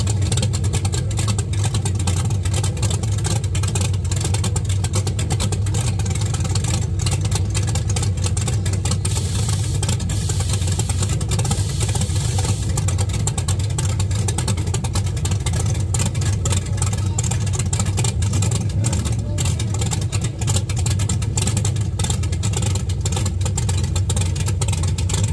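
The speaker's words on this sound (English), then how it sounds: "the truck just so smoothly moves out" A no-prep 4-link drag truck on small tires launching off the line: a loud, sustained engine roar that builds and holds steady as it pulls away, continuous and close with no talk.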